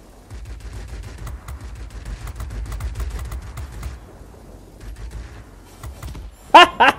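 Machine gun fire from a Corsair F4U-1 fighter in the World of Warplanes game, dense rapid bursts rattling steadily for several seconds over engine drone, then a sharp louder burst near the end.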